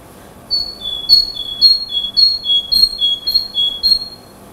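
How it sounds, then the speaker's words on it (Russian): Great tit song at a birdwatching lesson: a clear, repeated two-note whistled phrase, high then slightly lower, about eight times in steady rhythm, fairly close over a quiet background. "И у нее очень характерный звук. Давайте послушаем его. Большая синица."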